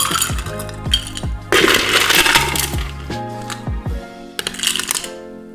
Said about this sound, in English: I'm gonna add my ice.